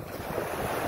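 Ocean surf breaks on a littered beach with crabs nearby, a dense, steady roar of waves mixed with wind noise on the microphone.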